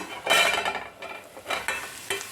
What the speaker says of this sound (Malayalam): ഇടയ്ക്കൊന്ന് ഇളക്കി കൊടുക്കണം കേട്ടോ